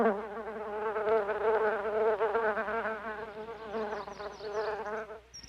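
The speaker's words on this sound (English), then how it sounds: "Bees have made a home in this hole." Bees buzzing at their nest in a tree hole where a branch fell off, a dense, steady droning hum of many insects, close and continuous, with a brief higher whine at the end.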